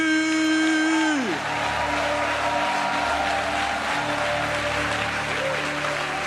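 A church congregation applauds and cheers for Jesus, a sustained wash of clapping and crowd noise. A sustained tone glides down at the start under it.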